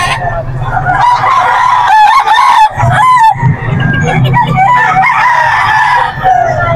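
A sweater cross gamecock crows loudly and up close, its harmonic calls rising and falling over several seconds, with other fowl clucking and calling around it.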